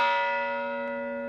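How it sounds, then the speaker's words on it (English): A ship's bell salvaged from the sunken USS Arizona, struck at a Pearl Harbor remembrance ceremony, rings with a clear sustained metallic tone slowly decaying, heard alone. "the bell you will hear is from the USS Arizona, one of 2 bells salvaged from the sunken ship"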